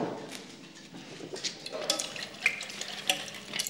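A sealed jar of baking soda and vinegar shaken hard, with liquid sloshing and fizzing in a steady wash of sound and a few sharper knocks of the jar, close by.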